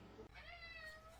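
A house cat gives a single drawn-out meow, rising then slowly falling, close by and fairly loud, with no one talking over it.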